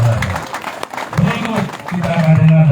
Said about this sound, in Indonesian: kita berikan tepuk tangan Bapak Ibu dan Saudara